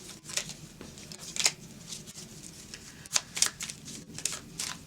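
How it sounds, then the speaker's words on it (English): Tarot cards shuffled by hand in a series of crisp riffling bursts and soft slaps, irregular and close, with no talking. "a little bit more shuffling."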